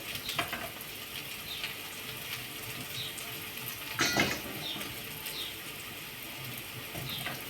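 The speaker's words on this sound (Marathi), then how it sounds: "अजून उकळू द्यायचं आहे, चांगलं नरम झालेलं पाहिजे ते." A pot of pimpal vegetable bubbling over a high gas flame, a soft continuous seething hiss with a few light clinks and stirs, fairly quiet and with no one speaking.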